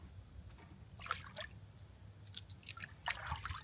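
Water spilling steadily over the rim of a cattle trough on a farm, a faint continuous trickle with scattered drips and splashes under a low hum.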